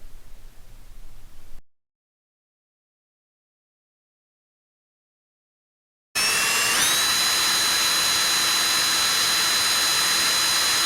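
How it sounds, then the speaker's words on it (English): Near silence, then a loud power drill suddenly starts and runs steadily, drilling a 3/8 inch hole in a Jeep, its motor whine rising briefly as it bites in. "see how difficult it'll be to drill a normal 3/8 inch hole"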